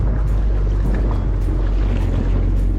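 A jet ski riding offshore at Palm Beach Inlet makes a loud, continuous engine roar mixed with rushing wind and water, close up, with no talking.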